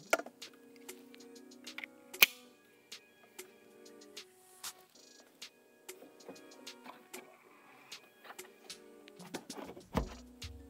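A J1772 charging adapter is fitted into a Tesla charge port, with scattered plastic clicks, taps and scrapes at an uneven pace, close and fairly quiet, ending in a louder clunk as it seats.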